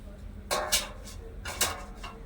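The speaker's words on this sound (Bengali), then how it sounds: "এখানে ডেকচির মধ্যে আমি কিছুটা জল নিয়ে নিয়েছি আর বসিয়ে দিচ্ছি এরকম একটা থালা" A metal plate is set into a cooking pot holding a little water, giving a few light clanks and clinks of metal on metal at close range over a quiet room background.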